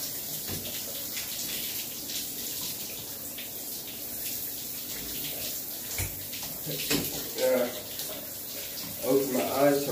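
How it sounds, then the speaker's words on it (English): Shower water rinsing a paraplegic person's back, a steady broadband spray running throughout, with splashing that grows louder and more uneven near the end. "go ahead and get your back rinsed"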